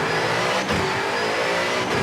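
A rally car in V-Rally 4 accelerates out of a corner, its engine revving loudly and continuously with a slight rising pitch and a brief dip near the middle, with no voices.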